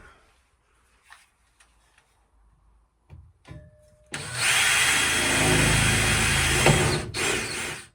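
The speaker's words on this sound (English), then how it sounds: "just whilst I drill the holes into it" Several seconds of loud, continuous whirring from a power drill boring holes while installing a stove on a narrowboat, preceded by a few scattered clicks and knocks.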